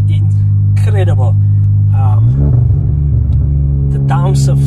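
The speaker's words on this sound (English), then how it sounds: "I think the downpipe also affects that DSD fart because it is incredible." VW Polo TSI with a stage one tune, downpipe and bigger exhaust, its DSG gearbox giving a low droning engine note that steps up in pitch midway, loud and close, with someone talking over it.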